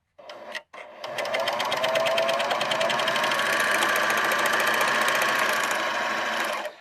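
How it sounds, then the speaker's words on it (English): Serger sewing machine stitching fabric for a grocery bag, opening with a few short bursts, then running fast and steady for about six seconds in a close, even mechanical whir. "what I did was I serged it in"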